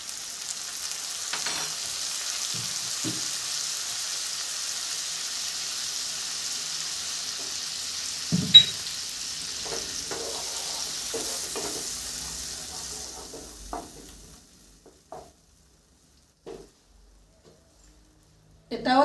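Spices for a bottle gourd and prawn curry sauté on low heat, hissing softly and evenly with occasional spoon scrapes. The sizzle then stops, leaving quiet gaps broken by a few light knocks and clicks.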